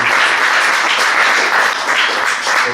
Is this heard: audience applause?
yes